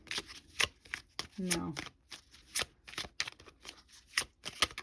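Oracle cards being shuffled for a tarot reading, a run of crisp riffling bursts and soft slaps in irregular rhythm, close and fairly quiet, interleaved with speech.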